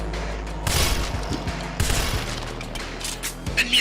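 Rapid bursts of assault rifle fire in the John Wick Chronicles video game, loud, close and sustained, with dense overlapping shots and a few sharper cracks near the end.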